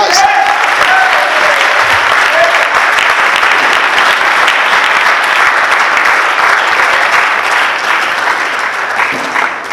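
A church congregation applauds to acclaim Jesus, with loud, dense clapping that carries on evenly for about ten seconds, a few faint voices and tones mixed in at the start.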